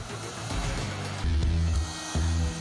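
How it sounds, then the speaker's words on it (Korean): An industrial heat gun heats wrap film on a car for removal, producing a steady blowing roar with a low hum that surges louder in two bursts. "공업용 드라이기를 이용해 필름 표면의 온도를 높여주는 사장님"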